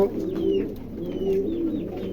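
Lahori pigeons coo softly and repeatedly in a low, rolling rhythm, with faint chirps and a quiet market bustle behind them.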